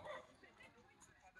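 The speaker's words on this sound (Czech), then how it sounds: "a narazili jsme na psí park, kde jsou kamarádi a oni se tady hrajou spolu" Dogs playing together in a dog park in Paris in autumn, with a few faint yips and barks at a distance while a person talks over them.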